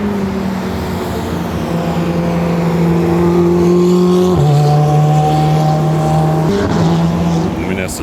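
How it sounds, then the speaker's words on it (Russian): A Ferrari on a race track holds a loud, steady engine drone close by, pitch climbing slowly and then dropping sharply at gear changes, revving on alone without talk. "По треку поехал. Феррари."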